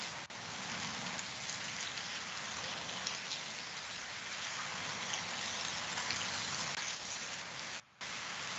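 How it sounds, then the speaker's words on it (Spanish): Steady rain falls and patters on a surface, a dense continuous hiss that runs unbroken apart from one brief dip near the end. "Está lloviendo."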